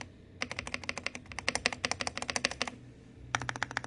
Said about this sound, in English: Let's get a sound of that key spacebar.